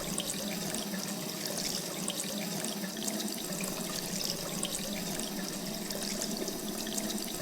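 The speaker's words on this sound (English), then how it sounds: "all that black sewage is feeding directly into this faucet" Water runs from a faucet fed by black sewage in the video game Rue Valley, a steady even hiss and trickle that carries on without a break and without talking.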